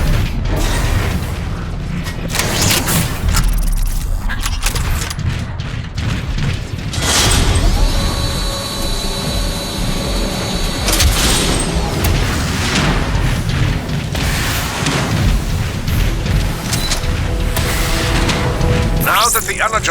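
Artillery fire and explosions in the video game Transformers: Fall of Cybertron, heavy booms and metallic mechanical clanks and creaks layered densely over a continuous loud din.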